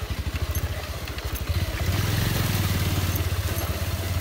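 A motorcycle engine thrums in a steady, pulsing rhythm as the bike rides along a road, loud and close, its putter rising slightly and holding steady toward the end.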